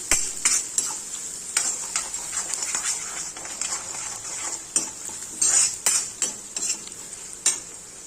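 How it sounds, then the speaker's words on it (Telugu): Onions sizzling in a pan for tomato curry while salt goes in and a spoon stirs, a close steady frying hiss broken by repeated clinks and scrapes of metal against the pan. "ఇప్పుడు ఆనియన్స్ వేగుడుతున్నప్పుడే మనకు ఉప్పు సరిపడినంత ఉప్పు వేసుకోవాలి"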